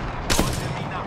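A Longbow gun fires in a shooting video game, one sudden loud shot with a short echoing tail over a steady game backdrop.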